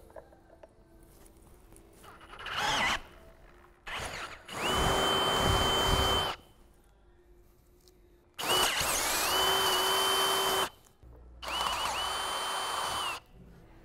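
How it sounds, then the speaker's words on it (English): A power drill whines in three long bursts separated by pauses, its pitch steady and loud while a 10 mm bit grinds through and drills out metal bolts on a Mini. "you need to get a 10 millimeters or a 13/32 drill bit and drill these out"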